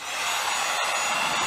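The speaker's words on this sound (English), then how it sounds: "I take my heat gun." A heat gun blows hot air in a continuous, even hiss, close and steady from start to finish with only a momentary dip in the middle.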